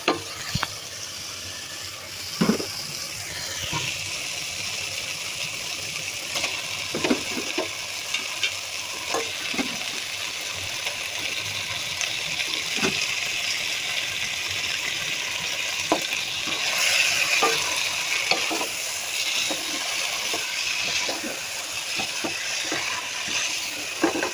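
Meat frying in a pot with potatoes and spices including cinnamon, pepper, garlic, onion and ginger paste, giving a continuous sizzle with scattered spatula scrapes and clinks over about twenty-four seconds.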